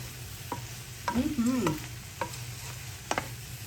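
Chopped yellow onion stirred into a chicken and street corn pasta casserole mixture, with close scraping and clacking strokes of a spoon against the pan at an uneven pace over a faint low hum, no talking.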